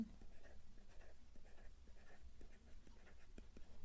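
A pen or pencil writes numbers by hand, giving soft, rhythmic scratching strokes close up at low volume that repeat steadily throughout.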